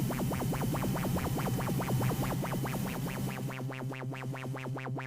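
A synthesizer with feedback applied and resonance turned up produces a rapid series of repeating swept, zapping pulses in a steady rhythm, bright and resonant, playing on its own without talk.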